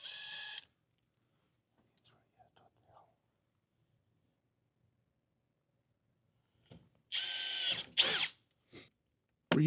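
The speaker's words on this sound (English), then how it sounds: "That allows us to center our drill bit and make a precision hole" A power drill with a brad point bit whirs in a few short, loud bursts near the end, after a long quiet stretch, with a brief burst at the very start.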